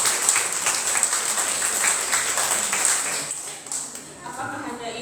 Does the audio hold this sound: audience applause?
yes